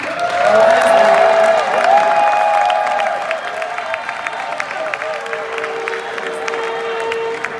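Audience applause welcoming a guest speaker at a 2024 event, a loud sustained wash of clapping with some cheering and whoops that fades slightly toward the end.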